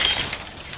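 A glass coffee table shatters after being hurled off a 20-story building, a brief loud crash of breaking glass with bright tinkling shards that fades quickly.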